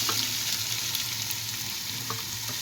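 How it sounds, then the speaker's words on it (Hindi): Chicken pieces fry in ginger garlic paste for chow mein, giving a steady, close hiss and crackle of sizzling oil throughout, with no voices. "अदरक लहसुन के पेस्ट में हम चिकन को अच्छी तरह करेंगे फ्राई।"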